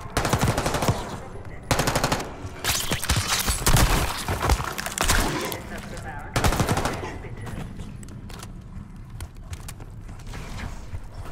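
Gunfire in Call of Duty Black Ops 6 crackles in rapid bursts of automatic shots, loud and close, with pauses between volleys, mechanical clanks and occasional voices.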